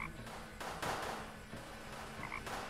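Cartoonish frog croaks from the point-and-click adventure game Deponia, a few rough croaking calls over a steady low game background, fairly close and moderately loud, with no talking.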